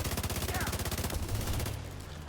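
Turrets firing in a video game: rapid, evenly spaced bursts of automatic gunfire that rattle loudly for about a second, then give way to a denser, rumbling wash of shots and blasts that trails off.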